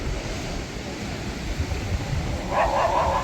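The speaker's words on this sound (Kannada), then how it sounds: "ನಾಯಿ ನೋಡಿ, ರಾಜಿ ಬುಲಾಜಿ" Against a steady rush of wind at a Goa coastal viewpoint, a dog gives a short burst of barking near the end, moderately distant.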